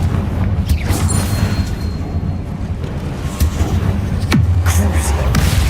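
Confringo fire spell blast in the video game Hogwarts Legacy: booming, rushing fiery bursts over a rumbling low bed, with a sweeping whoosh and a louder swell toward the end.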